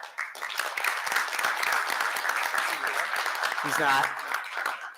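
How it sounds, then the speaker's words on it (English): Applause at a school board of education meeting honours a physical education teacher of the year; moderate clapping runs throughout with voices talking over it. "I think we should give a round of applause to Rick."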